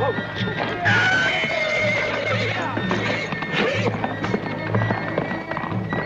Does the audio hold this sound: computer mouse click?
no